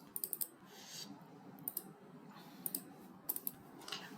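Sharp computer mouse clicks come in quick pairs and triplets, single and double clicks spread through a quiet room with faint background hum, while installing software on a Windows 10 PC.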